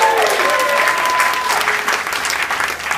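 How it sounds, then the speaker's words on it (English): A comedy club audience applauds at a live show, dense, loud clapping and cheering filling the room steadily and alone, gradually thinning a little near the end. "Give a round of applause for yourself."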